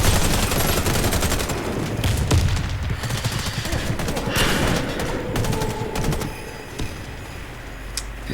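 Rifle gunfire in the shooter game Warface: rapid bursts of sharp shots crack in quick succession, loud and close, with scattered single shots and a short lull near the end.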